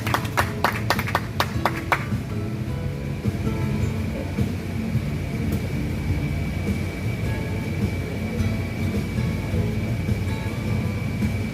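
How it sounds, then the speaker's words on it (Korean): Audience at a formal Korean commemorative ceremony applauding as a speaker is welcomed, a burst of hand clapping in the first two seconds followed by a low murmuring hall with a steady tone. "강태웅 국회의장 비서실장님을 큰 박수로 맞이해 주시기 바라겠습니다"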